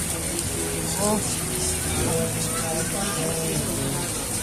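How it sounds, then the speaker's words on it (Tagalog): Steady rain and fast-flowing floodwater in a flooded street make a constant broad hiss and rush, while voices speak briefly over it. "Hindi na masyadong kalakasan yung ulan pero ang bilis ng baha, lalim."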